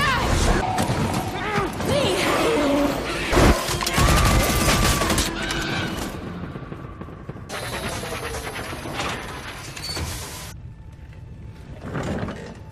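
A gunshot in the animated series Arcane cracks out as a sharp, loud burst amid dramatic score and dialogue, followed by mechanical clatter and ringing effects.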